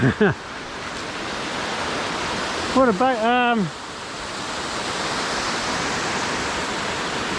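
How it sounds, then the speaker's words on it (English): Fast-flowing stream water rushing near a waterfall on a hike to Carrington Hut, a steady, broad roar close by that fills the whole clip, with someone briefly speaking over it. "no, we can't go down there. Water's going too fast down there."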